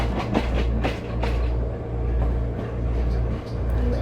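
Class 465 electric multiple unit running with its traction motors, a low steady rumble and hum with rhythmic rail clatter and swelling surges, heard from inside the train without talk.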